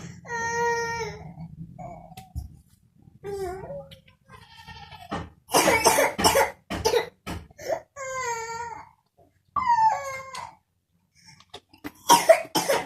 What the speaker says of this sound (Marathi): खोकला येते ना तर औषध प्यास लागते